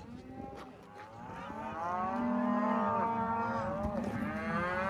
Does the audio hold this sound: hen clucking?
no